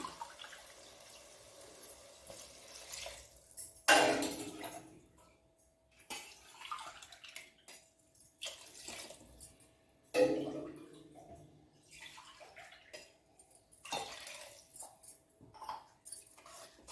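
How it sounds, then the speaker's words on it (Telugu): Water pours into a pot of rice for veg biryani in two bursts, splashing loudly at first and then trickling off, with quiet gaps and faint clinks between. "ఇప్పుడు సరిపడా వాటర్ పోసుకుందాం"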